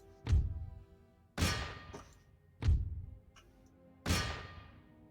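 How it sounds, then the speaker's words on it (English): Cannon volley in the Empire: Total War strategy game, heard as four heavy booming shots spaced roughly a second apart, each a sharp loud thump with a short decaying rumble, with no talk. "First cannon volley."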